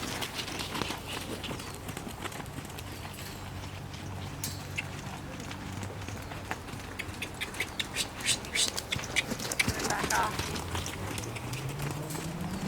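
A wild mustang's hooves trotting under a rider in a steady rhythmic clip-clop over ambient outdoor noise, with a person briefly speaking nearby.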